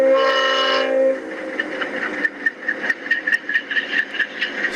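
A freight train led by GE locomotive units rumbles past nearby, opening with a sustained horn blast before steady rail noise and rhythmic wheel clatter over the joints continue.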